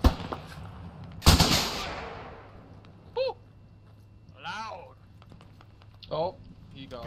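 A single loud, close gunshot booms in the video game Squad, followed by a decaying rumble, while voices speak briefly in the background.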